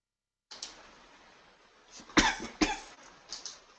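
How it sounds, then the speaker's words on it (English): A person with a lingering cough from an illness coughs twice in close succession, sharp and near in an otherwise quiet room, followed by a few softer breaths. "You can tell my cough still lingering"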